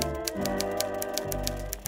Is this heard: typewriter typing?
yes